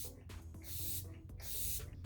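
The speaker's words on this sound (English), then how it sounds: "I'm gonna set my face again using the NYX Bare With Me Prime Set and Refresh Spray" NYX Bare With Me Prime Set and Refresh setting spray hisses from a pump bottle in two close, soft bursts, each about half a second long.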